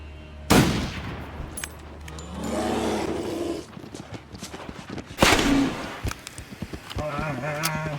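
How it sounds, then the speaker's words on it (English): A rifle shot rings out in The Long Dark, a sharp loud blast with a short echoing tail, followed later by a second strong impact-like burst, while a voice talks in between and ambient wind-like noise fills the rest. "think I hit him with the rifle, though, right?"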